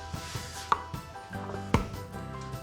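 Crispy crust of freshly baked, warm focaccia being cut with a knife, a series of sharp crunchy cracks and scrapes, close and clear, with no talking.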